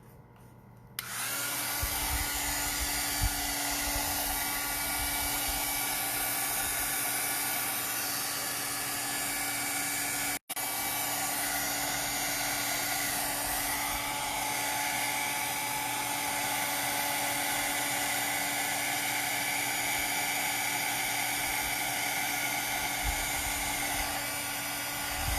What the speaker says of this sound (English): I'm gonna take my heat gun again.